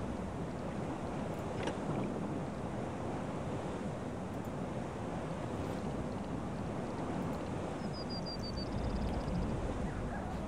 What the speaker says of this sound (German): Ziemlich windig hier